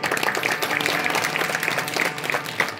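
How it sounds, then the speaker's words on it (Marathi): A kirtan audience at a village religious gathering claps together in a steady, lively burst of many hands, dense and fairly close, with no voices over it. "खरं त्यांच्याबद्दल एकदा टाळ्या वाजवल्यात अशा."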